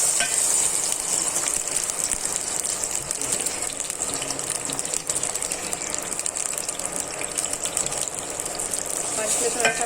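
Ground onion hitting hot oil in a pan over a normal flame, crackling and sizzling loudly and steadily throughout, with faint stirring scrapes underneath.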